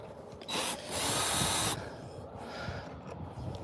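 A power drill backs screws out of wood in a backyard garden setting, with short bursts of whirring; the main run lasts about a second, followed by quieter, lower motor sounds.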